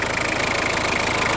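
A diesel engine idles close by with water vapor mixed into its oil, a steady loud rumbling chug with regular rapid pulsing and a constant mechanical hum, unchanging throughout.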